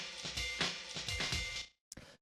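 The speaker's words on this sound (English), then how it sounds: "the first thing I have here is this resonator," A drum break run through a resonator effect, with rapid, punchy hits carrying a ringing metallic tone, then a short silence and one last sharp hit.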